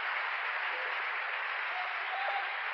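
Church congregation applauding together, a steady dense wash of clapping that holds at an even level from start to finish without any pause.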